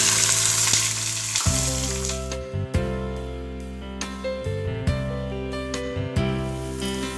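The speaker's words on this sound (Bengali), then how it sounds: "কড়াইতে তেল গরম হয়ে গেছে, আগে বেগুনগুলোকে ভেজে নেব" Eggplant pieces fry in hot oil in a wok, giving a loud, continuous sizzle with intermittent stirring clatters and bubbling bursts, with no talking.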